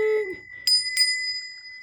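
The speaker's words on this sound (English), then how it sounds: "unicorn bell clearing too." A small unicorn bell rings for clearing, two bright metallic dings about a third of a second apart, each leaving a clear sustained ringing tone, close and alone.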